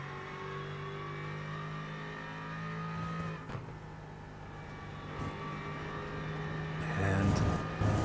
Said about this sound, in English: sounds of cars and engines is going to be a telltale sign these two drivers are pushing